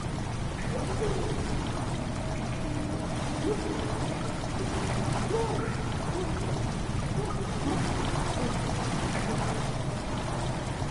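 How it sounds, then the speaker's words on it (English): Water steadily pours into a stone chamber in Amnesia: The Dark Descent, a continuous rushing, splashing flow that holds an even level throughout. "Water has begun to slowly fill the chamber."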